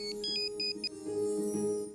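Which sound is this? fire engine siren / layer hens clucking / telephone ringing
telephone ringing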